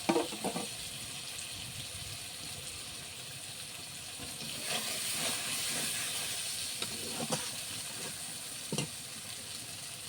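Eggplant fries in hot oil over a cooked-down spice masala, giving a continuous hissing sizzle that swells in the middle and is broken by a few soft stirring knocks, close and without voices.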